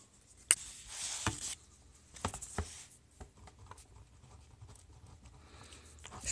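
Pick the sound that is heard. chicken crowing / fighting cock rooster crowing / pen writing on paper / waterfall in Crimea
pen writing on paper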